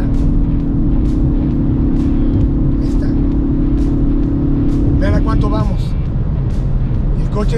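A 2022 Kia Forte GT hatchback with a 1.6 engine pulls hard under acceleration, its loud engine drone rising and steady from inside the cabin, with someone talking over it near the end.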